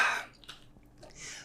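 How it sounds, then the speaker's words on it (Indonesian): Coffee being sipped, a soft slurping hiss followed by a brief swallow and another quiet slurp, close and low in level with no talking. "Saya seruput dulu kopinya."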